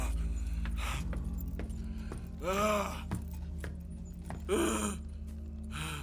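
Arthur Morgan in Red Dead Redemption 2 breathing hard: heavy, labored gasps and groaning breaths come in a few slow bursts over a low, steady background.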